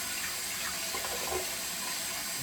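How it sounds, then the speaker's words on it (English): Cold water runs steadily from a tap into a sink during a post-shave rinse, a constant close rushing hiss with slight splashing variation and no voices. "Finish off with just a cold splash."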